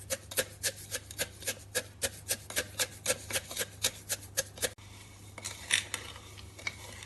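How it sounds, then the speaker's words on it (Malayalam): A wooden spoon crushes pineapple and sugar inside a bottle, making a run of about seventeen evenly spaced knocking thuds, roughly three or four per second. Quieter, scattered scraping follows. "ഇനി വെള്ളത്തിന്റെ അംശമില്ലാത്ത ഒരു തടി തവി കൊണ്ട് ഈ പഞ്ചസാരയും പൈനാപ്പിളും കൂടെ കുത്തി ഉടച്ചു കൊടുക്കാം."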